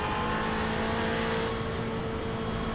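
A Ferrari race car in a virtual racing league event at Summit Point, in a racing video game, drones steadily with a constant engine tone, faint and even throughout, with no voices.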